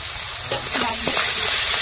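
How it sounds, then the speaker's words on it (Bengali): Small and tiger prawns dropped into hot oil in a village kitchen wok, a loud, dense sizzle that swells and keeps spitting, with brief tool clatter and no talk. "কড়াইতে তেল দিয়েছে, দিয়ে এবার চিংড়িটা দিয়ে দিল।"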